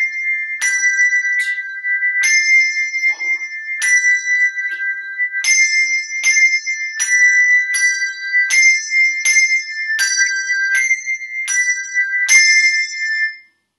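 English handbells ring an exercise in a steady, even rhythm, bright clear strikes following one another for over ten seconds, close and with no talk.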